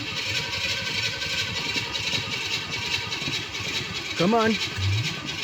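A wagon car engine cranking and failing to catch, a steady mechanical churn running throughout at close range, with someone briefly speaking near the end.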